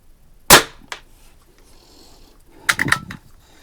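A Barra 1866 .177 air rifle fires with one sharp, close crack. It is followed by a fainter click and then a cluster of quick metallic clacks a couple of seconds later, with no talk.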